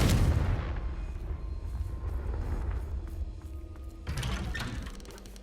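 The Confringo blasting spell in Hogwarts Legacy explodes with a loud booming burst that rumbles and fades, followed by a second crackling blast near the end, with no voices present.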